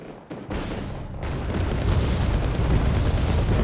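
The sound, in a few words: 500 kg bombs exploding, video game Wargame Red Dragon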